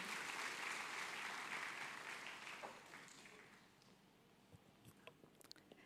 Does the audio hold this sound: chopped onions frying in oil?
no